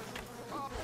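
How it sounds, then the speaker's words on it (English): A buzzing swarm of bees in the video game Bioshock, a close, wavering insect drone that rises and falls over about a second. "Bees!"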